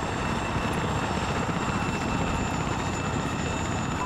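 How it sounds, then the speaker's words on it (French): A military helicopter in the Arma 3 combat game drones with a steady, loud rotor and engine roar that fills the whole stretch without a break. "Les gars, on est parti dans l'hélico de Bernard"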